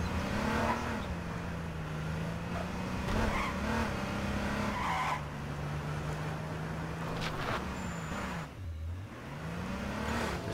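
A police car in the H1Z1 battle royale game keeps a steady engine drone while its tires squeal and skid in repeated bursts, with one deeper lurch near the end.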